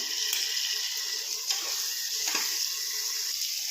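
Tomatoes and peas are sautéed in a pan for a pulao, a steady close hissing sizzle with a few soft stirring scrapes, continuous and fairly loud with no talk.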